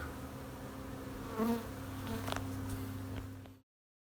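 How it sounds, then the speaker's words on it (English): A dense, steady buzzing of many aggressive honey bees close by at a large hive, with a brief louder swell partway through before the sound cuts off. "we're removing a monster hive with some mean bees"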